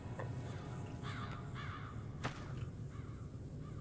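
Crows caw repeatedly in Fallout: New Vegas, several hoarse calls in quick groups over a steady ambient hiss, with one sharp click partway through and no voices.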